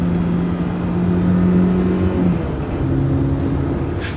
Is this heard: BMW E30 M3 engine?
yes